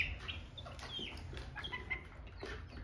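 Laying hens, ten of them kept in a pen nearby, cluck and murmur in short overlapping calls at a moderate distance, a busy, uneven stream of fowl sounds with no speech.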